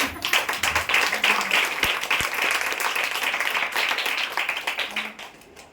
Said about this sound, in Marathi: नावाला टाळ्या वाजवा जोरदार